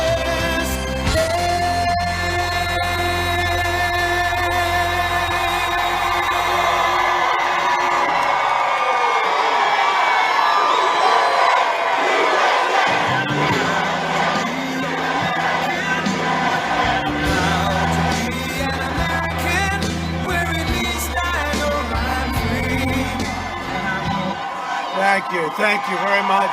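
Large outdoor political rally crowd in Rome, Georgia cheering, whooping and shouting for President Trump, a loud continuous roar of many voices with patriotic music fading out underneath.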